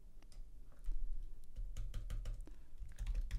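Typing on a computer keyboard while coding a React and ASP.NET Core app: a steady run of close, crisp key clicks with a few louder bursts, no talking.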